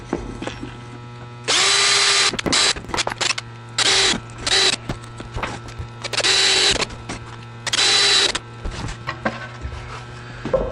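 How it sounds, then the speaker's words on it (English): A power drill fitted with a countersink bit bores screw holes in plywood in four loud, close bursts of whirring, with quiet handling noise between them. "I'm going to use my countersink bit to make that hole a little bit easier for the end of the screw to fit in."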